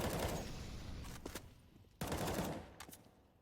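Gunfire in a competitive shooter video game match, two loud bursts of rapid automatic fire about two seconds apart, each decaying into echo and scattered shots.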